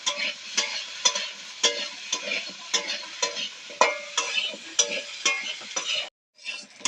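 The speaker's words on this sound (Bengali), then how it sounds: "দিয়ে এবার ভাজা ভাজা করে নেবো আবার" Chicken fries in a pot with salt and black pepper, a continuous sizzle punctuated by regular scraping strokes of a spatula stirring the pieces, close and moderately loud, briefly cutting out near the end.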